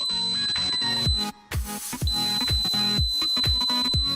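A continuous shrill electronic tone comes from a homemade PIR motion sensor alarm buzzer. It cuts out for under a second, then resumes and holds steady beneath loud rhythmic background music.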